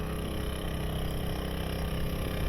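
Small, cheap outboard motor running steadily on a boat after two years of neglect, a continuous close drone with a low rumbling throb and no break.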